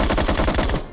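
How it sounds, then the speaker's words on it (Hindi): Rapid automatic gunfire rattles from inside a house during a battle-royale style video game, a continuous loud burst of closely spaced shots lasting about a second with no talk over it. "तभी घर के अंदर से भी आती फायरिंग"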